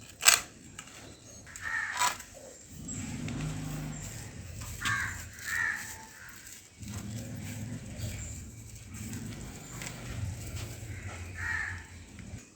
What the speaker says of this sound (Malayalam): കിളികളുടെ ഒച്ച കേൾക്കാൻ പറ്റണുണ്ടാ? ഭയങ്കര ഒച്ചയാണ് ഇവിടെ.